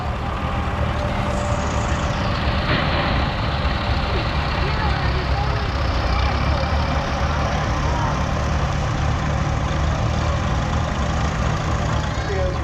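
A vintage tractor engine that starts on gas and then switches to diesel runs at a steady idle at an outdoor threshing show parade. The low, even rumble continues throughout, with a person talking over it.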